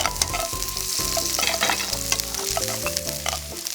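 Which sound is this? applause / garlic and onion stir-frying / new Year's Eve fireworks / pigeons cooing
garlic and onion stir-frying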